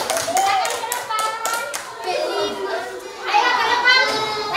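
Schoolchildren in a classroom clap their hands in a quick burst of applause, close and lively, mixed with excited young voices and chatter.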